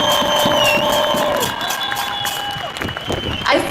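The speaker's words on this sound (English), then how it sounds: "can I get a round of applause for our brilliant MCs for a moment?" Crowd applause and cheering at a Palestinian solidarity rally outside the Israeli consulate in San Francisco: loud outdoor clapping with high whoops and shouts that fades in the middle, then rises again, with voices mixed through.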